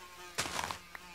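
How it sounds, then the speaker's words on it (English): A fly buzzing in a Minecraft game, a brief whining buzz that flares up for about half a second and then drops away, with a small blip afterward. "Stupid fly, get out. I don't like flies."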